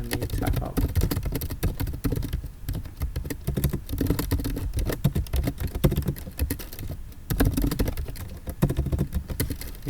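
Continuous typing on a computer keyboard while a C program is written, a dense, steady patter of key clicks running throughout with no voice.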